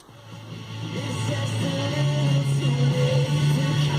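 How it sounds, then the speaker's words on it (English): Music plays from the stock factory radio inside a Suzuki Alto, moderately loud and steady with a humming tone underneath. "a quick demonstration of the stock radio performance"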